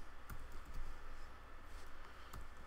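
Fingers type a file name on a computer keyboard, a quiet run of soft key clicks with a few sharper taps, close by against a faint steady background hum.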